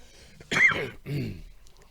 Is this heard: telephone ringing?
no